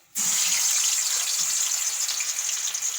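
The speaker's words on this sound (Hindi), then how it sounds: "देखें, अब इसको हम करेंगे फ्राई" Nargisi kofta sizzles in hot oil in a pan, a sudden steady bright hiss that starts abruptly and holds loud and close throughout, with faint low bubbling underneath.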